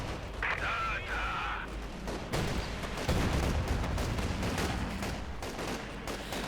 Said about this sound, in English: Grenade exchange there.